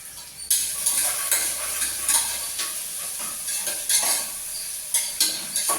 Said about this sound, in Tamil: இப்போ இடித்து வச்ச ஒரு 4 பல் பூண்டு, ஒரு சின்ன துண்டு இஞ்சி இதில் நான் ஆட் பண்ணுறேன்